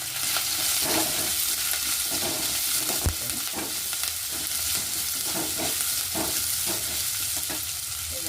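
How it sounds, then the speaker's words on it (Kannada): Onion frying in hot oil for a tempering that already holds curry leaves, sizzling steadily and close up, with scattered stirring scrapes and one sharp knock about three seconds in. "ಸ್ವಲ್ಪ ಈರುಳ್ಳಿ ಇಟ್ಟಿಗೆಲ್ಲ ಒಗ್ಗರಣೆಗೆ ಅದನ್ನ ಹಾಕ್ತೀನಿ"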